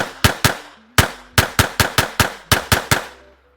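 A Taurus TX22 .22 pistol fires about a dozen sharp, close, loud cracks in quick uneven bursts, each followed by a short ringing decay.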